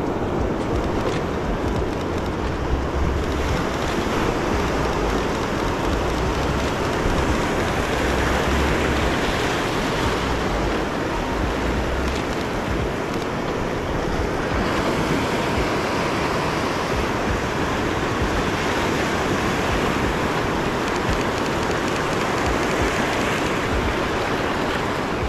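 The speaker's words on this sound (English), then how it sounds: "So we got some bigger waves coming through now." Big ocean surf breaks continuously in a dense, roaring wash of waves, steady and loud with wind noise throughout.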